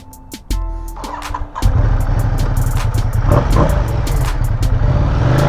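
Ducati XDiavel motorcycle started by keyless ignition: electronic beeps and a whirring starter, then the engine catches and settles into a loud, steady, close idle rumble.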